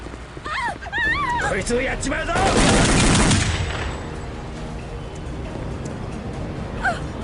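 Gunfire from a sniper engagement in Counter-Strike: Condition Zero, a loud dense burst of shots around the middle of the clip, with voices talking before and after.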